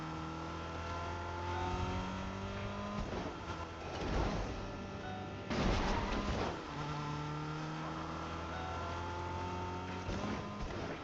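A car from a video game, an engine droning steadily as it drives around, with a couple of rising revs and swells along the way, heard alone without talk.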